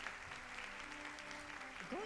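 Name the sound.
audience applause welcoming award laureates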